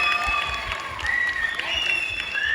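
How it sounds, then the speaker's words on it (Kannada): A crowd at a Kannada Rajyotsava cultural event applauds after a children's dance performance, steady clapping mixed with background voices and tonal sounds. "ದಿವ್ಯಾ ಅವರಿಗೂ ಕೂಡ ಬರಲಿ ಜೋರಾದ ಚಪ್ಪಾಳೆ"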